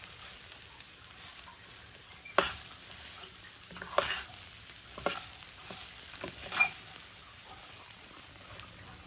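Hot water hits already-fried rice in a pan, giving a soft hiss under scattered sharp bursts of spitting and bubbling. Several louder crackles stand out against a faint, fairly quiet background.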